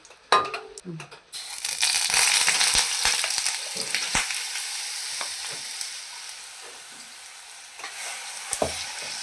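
Grated coconut mixture sizzles and fries in a spoonful of ghee in a pan on the gas, with a steady crackling hiss and occasional scraping stirs, close and fairly loud after a brief quiet start.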